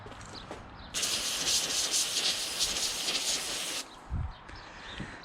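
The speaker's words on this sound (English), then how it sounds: "Alright, so we hit our electronic parts cleaner." Electronic parts cleaner sprays from an aerosol can onto a Yamaha WR400F front fork in one loud, steady hiss lasting about three seconds, followed by a brief rattle and a faint second burst.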